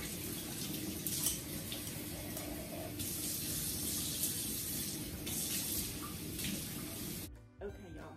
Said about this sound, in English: you're gonna give them another rinse